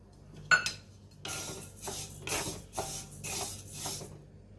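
Jowar and pearl millet grains roasting in a pan on a stove, the bajra poured in as a sharp clink, then a run of rhythmic scraping and rattling bursts as the grains are stirred, alone with no talk.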